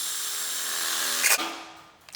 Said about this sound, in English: I'm just gonna drill me a hole right in the center.